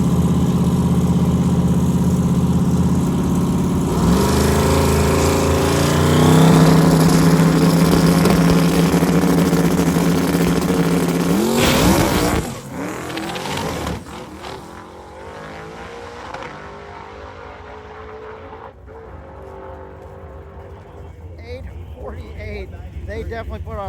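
A big-tire drag racing car roars hard at a drag week event, a loud sustained engine that rises then drops off after about twelve seconds into a quieter rumble, with crowd chatter and talk underneath.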